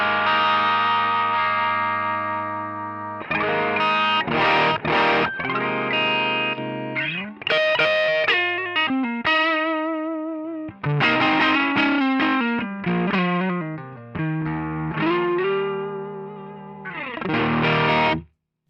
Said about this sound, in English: that's the way I use a Rat sometimes, if not for that just really nice, thick, woolly distortion sound